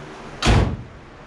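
Front door of a 1994 Subaru STi with its panel removed, opened by pushing down a blue plastic piece, giving one loud close thud that fades quickly after a quiet start.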